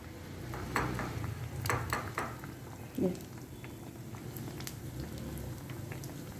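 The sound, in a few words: potatoes frying in oil for crispy aloo fry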